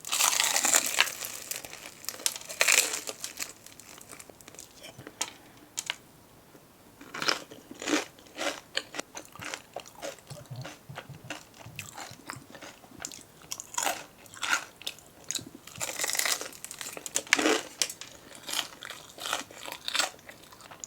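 Crispy fried chicken (Kwasak King) being bitten and chewed up close, with repeated loud crunches and crackles in irregular bursts, separated by quieter chewing.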